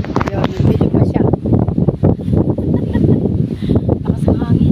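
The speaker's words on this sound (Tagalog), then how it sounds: "Lakas ng hangin." Strong wind buffets the microphone outdoors at a nature park, a rough, gusting rumble running throughout while people talk over it.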